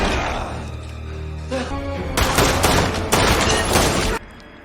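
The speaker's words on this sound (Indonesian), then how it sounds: "setelah kejadian tembak-tembakan berlangsung, Russell tertembak juga" Loud bursts of rapid gunfire and crashing impacts from a film shootout, with dense overlapping shots and a booming low rumble underneath.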